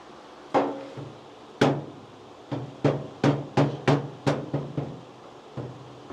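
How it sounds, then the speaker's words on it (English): A hammer strikes the metal firewall of a 1965 Mustang GT Convertible: two sharp blows, a pause, then a quick run of about seven more ringing hits, close and loud with nothing else in between. "Let's see if we could do it with a hammer."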